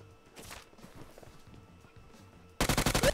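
Automatic gunfire in PUBG Mobile, a fast loud burst of shots bursting in at the end after quieter footsteps and shuffling movement.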